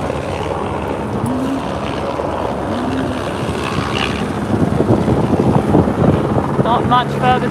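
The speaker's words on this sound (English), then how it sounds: "Team Malizia coming in to the finish of the import race leg 6." Racing sailboat crossing the finish of the Aarhus in-port race on leg 6 of The Ocean Race, heard from a chase boat as steady rushing wind and water with engine rumble, loud and continuous, with a voice speaking over it.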